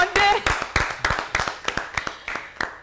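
A few people clap for Romain at a Halloween gathering, the claps sharp and uneven in a loose rhythm, close by, with voices talking over them.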